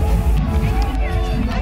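Many people chattering together at a busy outdoor picnic spot, a dense continuous babble of overlapping voices close by, steady in loudness with no single voice standing out.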